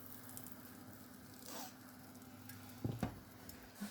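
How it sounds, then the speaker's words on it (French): Butter, with a little olive oil, melts in a pan, making a faint soft sizzle with a few close clinks and scrapes. "On fait fondre du beurre."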